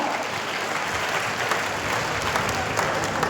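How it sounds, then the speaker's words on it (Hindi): At a student felicitation ceremony, an audience applauds with dense, loud, continuous clapping from many hands. "तालियां आपकी ओर से जोरदार हो"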